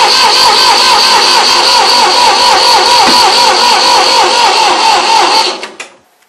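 Engine of a 1972 Ford 2000 tractor cranking over on the starter, a loud, close, rhythmic whirring churn that runs steadily for about five seconds, then cuts off and winds down to silence.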